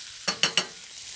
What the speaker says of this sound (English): Nice sear on all sides.